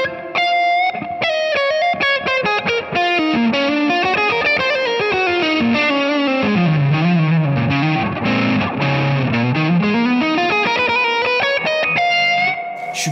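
A loud, sustained electric guitar with heavy distortion and lush reverb, played through a pedalboard, plays a rising and falling melodic line, ringing out alone.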